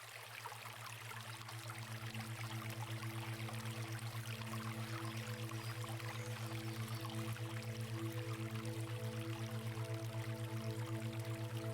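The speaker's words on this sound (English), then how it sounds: "will you tell me if you can hear the music and the babbling brook okay?" A recording of a babbling brook plays as a steady, even rush of flowing water, mixed with sustained meditation music drones held underneath throughout.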